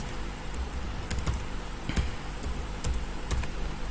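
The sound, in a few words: typing the password on a computer keyboard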